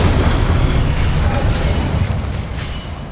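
Incendio fire spell cast in Hogwarts Legacy on PS5, a loud, dense whooshing blast with a deep rumbling body that holds steady and tapers slightly over a few seconds.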